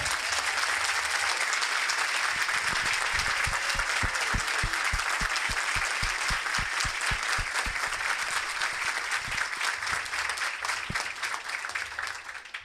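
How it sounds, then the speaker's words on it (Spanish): An audience at a history congress applauds steadily and close, dense clapping holding strong for about twelve seconds before easing slightly at the end. "pediría un aplauso para la que hizo que esto fuera posible"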